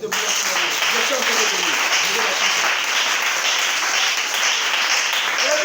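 Church congregation applauding the Lord at an Easter service, steady dense clapping from many hands throughout, filling the room with no break.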